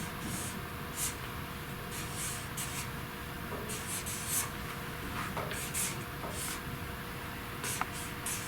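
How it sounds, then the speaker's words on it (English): Pen strokes scratching across index cards as numbers are written one after another, soft intermittent scribbles over a steady background hiss. "I have laid out 9 index cards, and I'm going to number them from 1 to 9."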